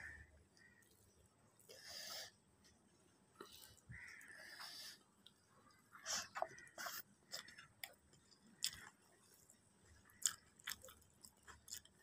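Close, quiet chewing of rice with pickle, soft crunches and wet mouth clicks in an irregular rhythm, with brief murmured speech between bites.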